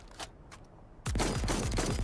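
Full-auto gun firing in Cyberpunk 2077: two soft single shots come first, then a loud, sustained burst of rapid automatic fire with fast rattling reports that runs to the end.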